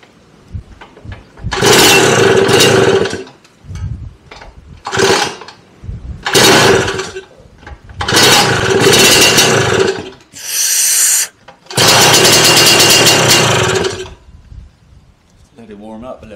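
A Lambretta Series 2 scooter engine is started with the choke off, giving several loud, broad bursts of cranking and revving between pauses, with people talking in the quiet gaps.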